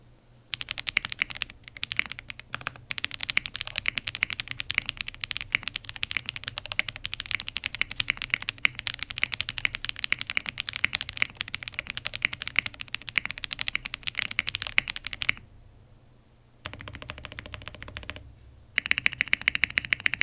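Fast, steady typing on a Zoom TKL mechanical keyboard fitted with Wuque Studio yellow switches: close, crisp keystrokes in a dense run with a short pause midway and another near the end, and no voices.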